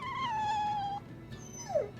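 A dog in the video game Tales of Berseria lets out two short whimpers, a sustained whine followed by a brief falling yelp, fairly quiet and alone.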